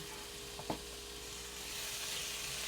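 Chicken sautéing in a pan for a beef white sauce and shell-pasta soup meal gives a steady, soft sizzle with one brief stirring scrape early on, the hiss swelling slightly toward the end.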